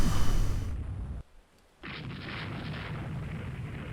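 Naval gunfire aimed at a Houghton class ship in the video game Rule the Waves 2, heavy booming salvos with a brief silent gap before another loud, sustained roar of shellfire.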